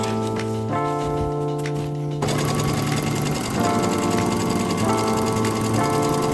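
A sewing machine runs steadily while stitching a 5/8-inch seam on a bag, its mechanical whir loud and close, with a brief low lead-in at the start before the full stitching rhythm takes over.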